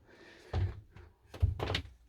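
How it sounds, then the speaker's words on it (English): A motorhome door, in a Carthago Chic C-Line I 4.9 LE, swings across and closes with two solid, close thuds about a second apart, each followed by a short rattle of the latch and panel. "or also this door comes across"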